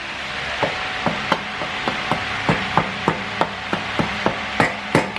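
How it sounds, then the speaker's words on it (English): Sharp metal-on-metal hammer blows drive a subframe bushing flush on a Nissan S15, in a steady, fairly regular rhythm, about a dozen hits close by, with a faint mechanical hum underneath. "he's going to use a hammer just to bang that flush"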